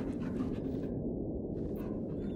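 A dog in the video game Arizona Sunshine 2 pants heavily in quick, steady breaths, close and moderately loud, continuing alone without talk.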